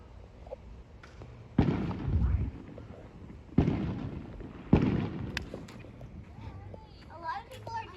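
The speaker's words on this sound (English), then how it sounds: "A lot of people are doing fireworks." Fourth of July fireworks booming in a neighborhood, three loud deep bursts spaced a second or two apart with a rumbling tail, over a family chatting nearby and faint crackles afterward.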